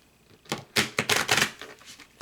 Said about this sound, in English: let me just shuffle them up one more time